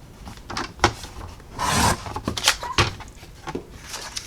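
Paper trimmer blade rasping through card stock to cut it in half, a few short scraping and sliding strokes with one longer, louder slice in the middle, close and clear with no talking.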